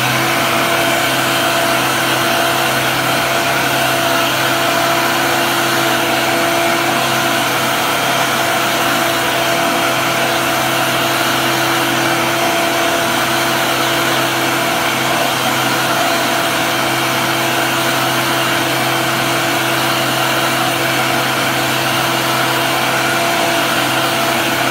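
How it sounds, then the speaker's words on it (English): Supreme BA101 hand dryer running continuously in a washroom in Australia, a steady loud whirring blower hum with a constant tone and no variation throughout. "I found a Supreme BA101 hand dryer."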